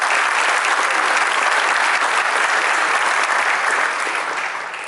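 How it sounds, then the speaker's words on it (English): Audience at a Tennessee Sports Hall of Fame induction ceremony applauds steadily, a dense, sustained clapping that fills the room and begins to taper off near the end. "Can you give them a round of applause, please?"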